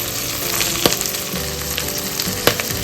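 Prawn shells fry in a hot pan alongside onions, celery and carrots, giving a steady dense sizzle with a couple of sharper crackles and stirring scrapes, close and continuous with no talking.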